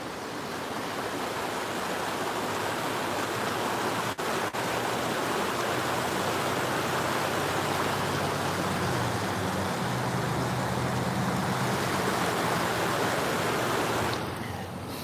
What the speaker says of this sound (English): Kind of like cool how they do these just man-made waterfalls